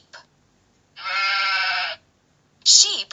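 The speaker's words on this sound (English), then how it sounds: "Sheep." A sheep bleats once in a clear, wavering call lasting about a second, followed by a second shorter, sharper bleat near the end, with a faint click at the start and otherwise quiet surroundings.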